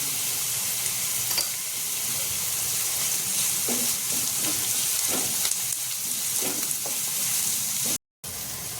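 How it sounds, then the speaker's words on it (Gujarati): Veg manchurian mixture with capsicum sizzles and fries in a pan while a spoon stirs it, a steady close hiss broken by soft scraping strokes every second or so, with no speech. "બધું બરાબર મિક્સ કરીને ચલાવતા રહેવાનું રહેશે।"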